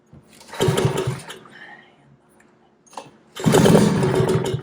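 A generator engine sputters as someone tries to start it on ice with the choke and fuel on. Two loud bursts of popping and chugging stand out, separated by a quiet gap with faint rattling.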